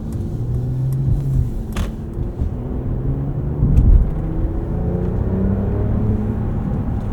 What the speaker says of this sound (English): I think the Inline 6 sounds good too.